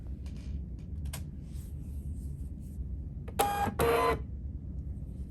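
A Zebra GK420 label printer that stops printing mid-job gives a few faint mechanical clicks and then a short, loud burst of whirring feed noise, all in a quiet room.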